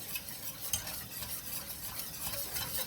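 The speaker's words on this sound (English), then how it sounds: "Continue to whisk this about 5 minutes till it gets thick and turns into a sauce." A whisk stirs a roux sauce for macaroni and cheese in a pan over raised heat, scraping steadily around the metal with a soft sizzle underneath; quiet, close and continuous, with no talking.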